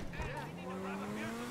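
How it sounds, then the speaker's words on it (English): The Neo car with eight exhaust pipes in GTA 5 Online revs its engine in a rising tone as it accelerates, heard briefly and fairly close beneath someone talking. "So it have 8 exhaust pipes, and the sound is not that great."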